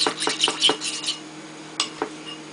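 Spoon stirring leftover soup of mixed vegetables, navy beans and pork in turkey stock, clinking against the pot in a quick burst of scrapes and taps, then a couple of isolated clinks, close and clear with no talk.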